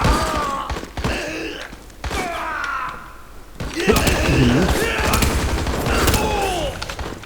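Gunfire and sniper shots in the online shooter InZone Online, repeated sharp cracks and bursts scattered through the clip, with excited voices talking over the game sounds.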